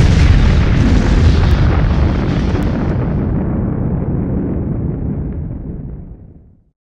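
A rendered explosion effect for a Cinema 4D animation bursts loud from the start, then rolls as a dense, sustained roar that slowly fades out over several seconds.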